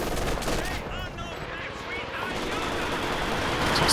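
Dense, continuous battlefield fire from a Company of Heroes 2 match, with an MG42 machine gun chattering and Katyusha rockets launching in a heavy roar of overlapping shots and blasts, a commentator speaking over it.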